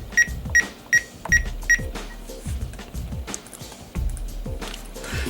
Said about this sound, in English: But yeah, those are the button beeps.